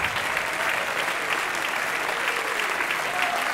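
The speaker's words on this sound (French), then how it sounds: "On l'applaudit, on les applaudit." Sustained audience applause for a chamber orchestra and choir at a concert, a dense, steady wash of many hands clapping at even loudness throughout, with no other sound standing out.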